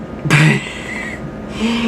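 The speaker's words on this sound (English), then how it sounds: "I've had this cough, I can't get rid of it." One harsh, abrupt cough close by, trailing into a raspy breath, with faint background noise after.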